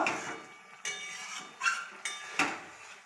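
Potatoes cooking in a pot stirred with a utensil, five sharp scraping knocks of metal against the pot at uneven intervals, close and clear with quiet gaps between them and no talk.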